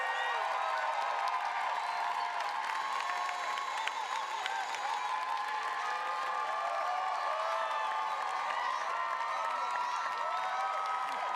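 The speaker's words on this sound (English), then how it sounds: "Please join me in a round of applause for the Master of Science in Public Policy and Management students" At a 2024 Heinz College graduation and hooding ceremony, a large audience keeps up continuous applause mixed with scattered cheers and whoops, filling the hall at an even level.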